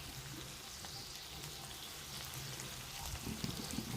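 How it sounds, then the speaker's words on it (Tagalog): Dried fish (tuyo) fries in hot oil, a steady close crackling sizzle that thickens and pops a little louder toward the end, with no talking. "Prituin na po muna natin yung mga tuyo."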